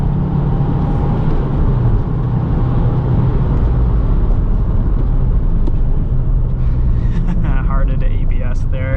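A 2022 Subaru WRX with a six-speed manual and all-wheel drive lapping the wet Road America race track, a loud continuous engine and road roar with tire spray heard from inside the cabin, with someone talking over it.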